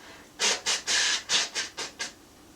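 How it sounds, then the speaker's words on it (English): Seven short, forceful nasal blows follow one another in a quick rhythmic series, close and breathy, with no talking, as part of a yoga breathing cleanse. "you would just blow your nose a bit like this"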